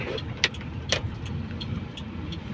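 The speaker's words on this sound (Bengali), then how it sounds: "আজকে আমাদের এক বড় ভাই ড্রাইভিং করতেছে" Inside a car during a driving lesson, a quiet, low engine hum runs throughout, with a few faint clicks and knocks from the cabin.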